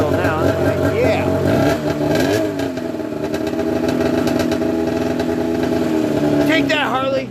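A Polaris Dragon snowmobile engine runs loud and close, revving up and down in waves over a steady idle, with a voice talking over it.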